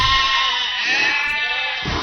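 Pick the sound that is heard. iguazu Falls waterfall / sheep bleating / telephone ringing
sheep bleating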